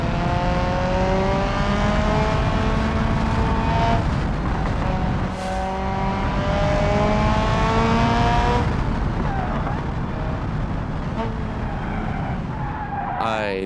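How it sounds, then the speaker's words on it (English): Open-wheel race car in the BeamNG racing game, a loud, close engine note rising and falling through revs, with tyres squealing and skidding on downshifts under the throttle blips, and someone talking over it at times. "I think it's the way the game downshifts that it blips the throttle."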